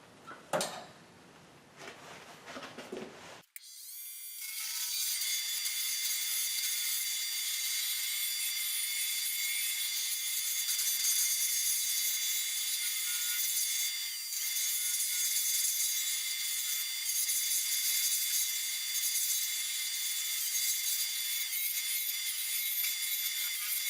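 A power sander works steadily on wooden Dizzy egg craft pieces, a bright, even whine running unbroken for about twenty seconds after a brief burst of handling noise at the start.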